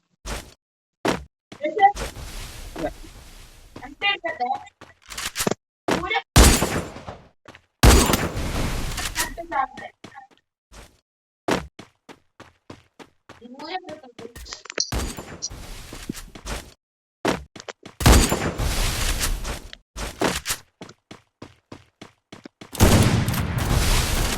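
Bursts of gunfire from the Free Fire video game come in short, sharp volleys separated by quiet gaps, with players talking between and over the shots.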